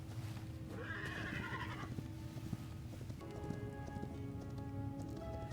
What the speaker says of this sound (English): we hop back on our horse and head back